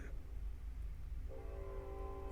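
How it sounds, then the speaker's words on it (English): A train on nearby tracks sounds as a low rumble that sits under a faint sustained horn tone entering partway through, distant and quiet, with no voices. "You hear that? That's the train I'm talking about."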